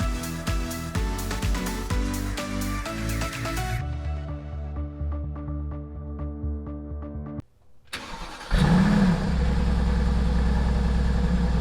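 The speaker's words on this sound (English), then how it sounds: "right now we're on our way in the AMG to my buddy Jesse's shop again" A Mercedes-AMG car's engine, first a loud tonal drone that eases to a quieter hum, then a brief near-silent drop before a louder, rushing engine roar returns with a rising and falling whine.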